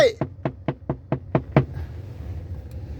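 Someone works at a car door that will not open, making seven quick, evenly spaced knocking thumps close by before it falls quiet.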